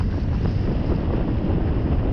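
Steady wind roars and buffets the microphone on Lake Jocassee, North Carolina, during a foil windsurfing session, a dense continuous rumble with no talk.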